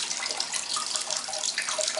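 Water runs steadily into a tank through one inlet pipe of a level-control setup driven by a pump, making a continuous, close rushing and splashing sound with no talk.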